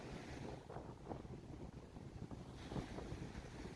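Wind gusts across a breezy Bay of Fundy shoreline as the tide comes in, a steady, loud rush of air buffeting the microphone with slight swells and no voices.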